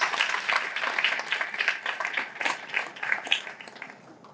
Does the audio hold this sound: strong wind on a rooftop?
no